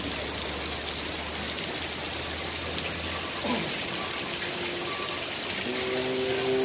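Heavy rain falls at Merak harbour, a steady wash of drops and surface patter spread evenly across the scene, moderately loud with faint distant tonal sounds near the end and no talk.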